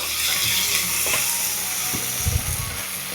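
Cooked tomatoes being mashed in a frying pan with a spoon for a beef dish, a constant close sizzle with a few soft pressing thuds and scrapes beneath it.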